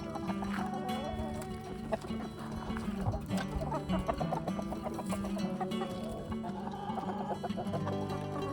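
Roosters and hens clucking and crowing together in a farm flock, a dense layered chorus of overlapping calls that runs steadily throughout, fairly close, with faint indistinct background noise.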